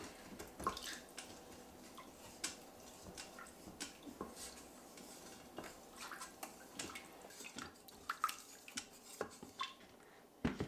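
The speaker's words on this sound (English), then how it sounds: "You need a flat-edged utensil to scrape the bits off the bottom." A flat-edged utensil scraping browned bits off the bottom of an Instant Pot's metal insert, with faint repeated scrapes and light clicks against the pot, soft and close.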